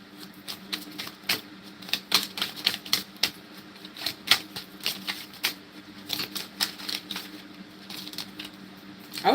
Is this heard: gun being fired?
no